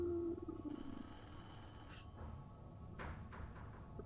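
A telephone in the video game Forest Ranger Services rings faintly, a high electronic trill lasting a second or so, then short bursts of ringing repeat against a low background rumble.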